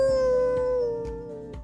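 A dog howls happily, one long sustained tone that slowly bends downward, close and loud over a soft rhythmic backing of music.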